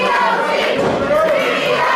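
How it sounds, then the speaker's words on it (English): A wrestling arena crowd chanting "Boz" for Superstar Steve Boz during a match with French Cactus, a loud, continuous roar of many voices with rhythmic swells. "The chant of BOZ echoing across this crowd."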